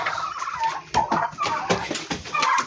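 Chickens and a black rooster gathering at feeding time, giving a busy, close chorus of clucks, squawks and calls that overlap continuously, with no speech.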